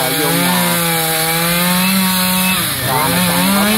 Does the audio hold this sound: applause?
no